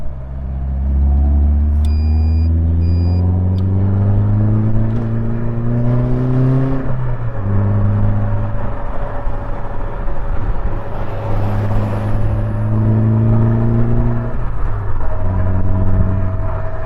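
A Caterham car's upgraded engine pulls hard through the gears, each rising rev sweep broken by brief dips at the shifts, loud and close from inside the open car.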